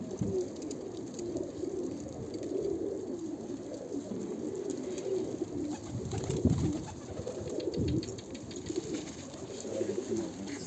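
Pigeons coo softly and continuously nearby, with light rustling and shuffling of the birds moving about.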